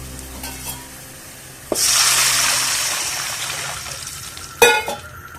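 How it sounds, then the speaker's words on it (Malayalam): Three glasses of water poured into a pan of browned garlic in hot oil hit with a sudden loud sizzling hiss that slowly fades, followed by a short clatter near the end. "ഇനി ഇതിലേക്ക് മൂന്ന് ഗ്ലാസ് പച്ചവെള്ളം ചേർക്കാം"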